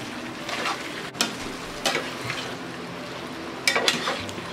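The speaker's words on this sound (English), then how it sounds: "This is a lot of stir fry." Turkey sausage stir-frying in a pan, a steady low sizzle with a few sharp scrapes and clinks of a utensil stirring through the food.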